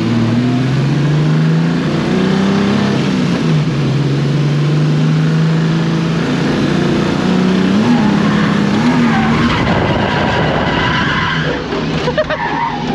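A four-door BMW E46 drifts at a track, its engine revving hard with long rising and falling pitch sweeps while tyres skid and squeal continuously, loud and close throughout, with a brief voice underneath.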